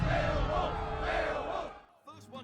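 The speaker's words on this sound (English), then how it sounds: "A crowd chants Beowulf's name" In the video game Beowulf, a large crowd loudly chants and roars the hero's name in rhythmic bellows, then the noise drops away abruptly near the end.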